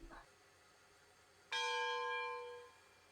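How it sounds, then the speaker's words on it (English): A single clang of a locomotive bell in the video game Railroads Online, striking once and ringing out with a long metallic decay that fades after about a second, heard alone. "For some reason it's still ringing the bell."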